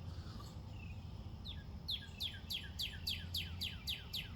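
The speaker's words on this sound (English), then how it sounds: "You hear the birds chirping?" A bird repeats a quick series of sharp descending chirps in a steady rhythm, fairly faint outdoors over a low background rumble.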